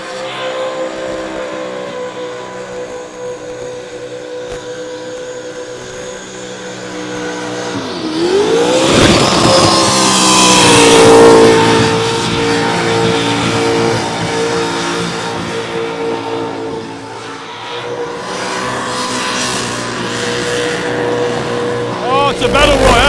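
At a street race, a supercharged car screams past loud and near, its engine revving and rising to a peak before tailing off, with whine and tire noise and people talking underneath.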